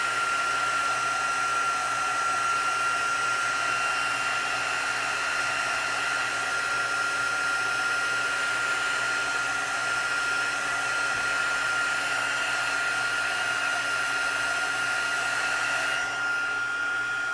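Heat tool blowing on embossing paste spread across a handmade card, a loud, steady, close whir with a high whine running unbroken for the whole stretch and a slight change near the end, no voices.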